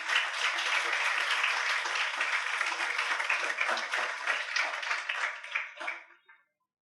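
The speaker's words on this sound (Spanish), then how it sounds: "Aplauda a Cristo un minutico" A congregation at a church service applauds, with dense, sustained clapping that holds steady for several seconds and then tapers off and fades to silence, with no voices standing out.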